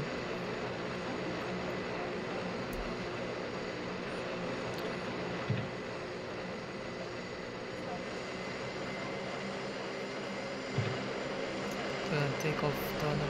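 A passenger aeroplane in a flight simulator game taxis for take-off toward runway 27, its engines holding a steady, even drone throughout with a couple of faint clicks.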